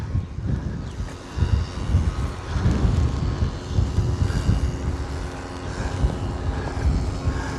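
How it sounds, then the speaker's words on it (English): Outdoors in Jerusalem, strong wind buffets a camera microphone with continuous low rumbling and gusting that swells and eases throughout, loud and close. "And the wind blows straight to the lens."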